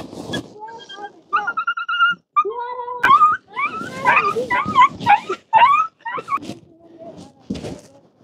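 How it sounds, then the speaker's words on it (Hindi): Bhotia dog puppies in the mountain border village of Gangi whimper and yip close by. Their high, wavering whines and short squeaky cries come in repeated irregular bursts. "ये है भाई कुत्ते के बच्चे"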